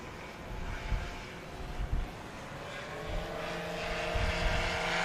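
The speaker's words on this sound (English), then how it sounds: "listen to the loud thunder of the Sidewinder turbo." A STOL airplane powered by a Sidewinder turbo engine takes off at a STOL competition, a steady loud drone of engine and propeller building over the clip, with low rumbling bumps and a faint voice underneath.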